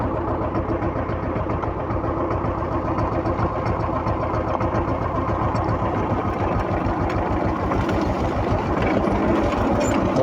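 A tractor or farm vehicle engine runs at a steady, loud throttle with a fast regular rhythm, rising slightly in intensity toward the end, heard close with no talk.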